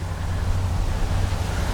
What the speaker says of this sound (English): now it's really windy here today